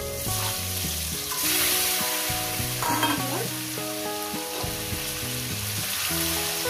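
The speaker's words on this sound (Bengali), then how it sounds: "ডিমগুলো সুন্দর করে ভেজে নেব।" Peeled boiled eggs fried in oil with turmeric for an egg curry, giving a steady sizzle with occasional stirring scrapes, all beneath background music and no talking.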